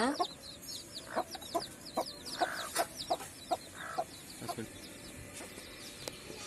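Chickens kept with their chicks in a home garden cluck repeatedly, short clucks coming at a steady pace roughly every half second, with faint chirping in the background.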